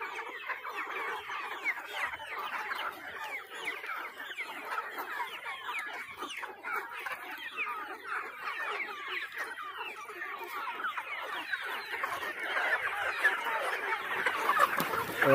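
Native country chickens, hens and roosters, cluck steadily in a dense, overlapping chorus on a poultry farm, growing slightly louder toward the end with no talking.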